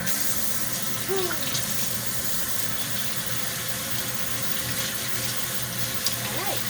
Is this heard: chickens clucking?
no